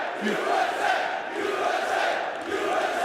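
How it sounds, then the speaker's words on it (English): A large esports arena crowd at MLG Columbus 2016 in Columbus, Ohio roars and chants in a rhythmic pulsing swell, loud and continuous throughout. "it's just amazing to come here and see everyone cheering so much"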